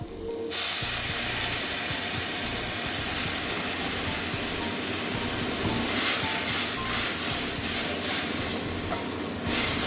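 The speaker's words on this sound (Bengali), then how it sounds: "এবারে জল দিয়ে দেবো মশলার মধ্যে একটু জল দিয়ে কষিয়ে নেবো" Water is poured into spice paste frying for a red amaranth curry with potato and brinjal, setting off a sudden loud steamy hiss that continues steadily up close.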